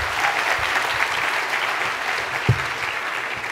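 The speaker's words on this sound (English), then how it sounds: "Nice round of applause for CityLab." An audience applauds steadily at a CityLab Baltimore event, dense continuous clapping from a crowd filling the room for several seconds with one louder thump near the end.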